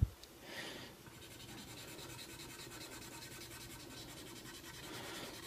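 Damp cloth scrubbing the plastic case of retro computer gear, a steady soft rubbing that continues for several seconds at low volume, with a brief louder swipe near the start.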